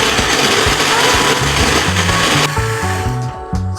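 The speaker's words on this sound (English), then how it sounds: "Then you blend." A blender whirs loudly as it blends coconut with water for coconut rice, a dense continuous roar whose motor pitch steps up and down through pulses toward the end.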